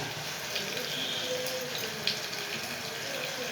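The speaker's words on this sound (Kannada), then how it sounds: "ಈ ಮೆಂತ್ಯ ಸೊಪ್ಪನ್ನ ಒಂದು 3 ಸಲ ವಾಶ್ ಮಾಡಿಬಿಟ್ಟು" Tap water runs steadily over fresh fenugreek leaves being rinsed in a kitchen, a close, even broadband rush with faint splashes and no talk.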